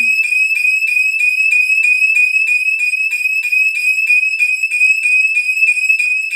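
A SimpliSafe Gen 1 home security base station sounds its alarm in a small room: a loud, piercing electronic tone pulsing rapidly and evenly without pause, alone and very close.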